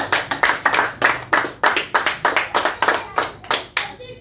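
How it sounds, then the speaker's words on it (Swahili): Congregation at a church youth service applauds itself, rhythmic close-up hand clapping in steady repeated beats, loud and uninterrupted before fading out at the end. "Aya, jipigie makofi mazuri."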